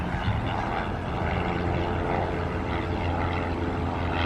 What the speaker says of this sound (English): Today we got an airplane flying over us like always.